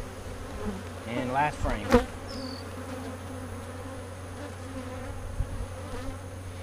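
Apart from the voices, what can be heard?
defensive honey bees buzzing after harvest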